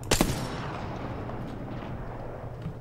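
A single loud gunshot in the battle royale shooter Apex Legends cracks at the start, followed by a long rumbling decay and low background game noise.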